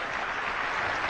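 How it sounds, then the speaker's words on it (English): Brief, dense audience applause at a talk, a steady wash of many hands clapping at moderate volume. "Give Glenn a round of applause."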